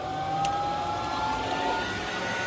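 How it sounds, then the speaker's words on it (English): A Glowforge laser cutter's exhaust fan runs at a steady, loud broadband roar with a faint high whine, continuous like a jet engine and without voices. "And we are going to turn our fan back on."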